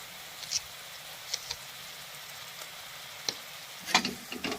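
Spices with turmeric and salt roasting in a pan, a faint, low sizzle with scattered soft taps and a few louder stirring clatters near the end, no voices.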